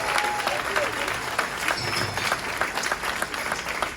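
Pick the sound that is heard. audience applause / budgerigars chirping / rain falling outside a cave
audience applause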